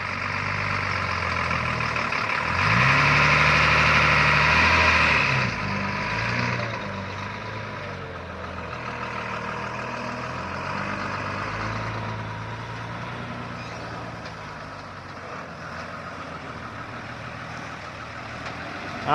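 A Hino F18 ten-wheel truck loaded with sugarcane labours at full throttle, its diesel engine roaring and straining loudly before settling into a steadier rumble with shifting pitch as it climbs.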